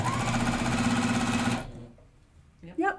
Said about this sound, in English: Yep, we're sewing.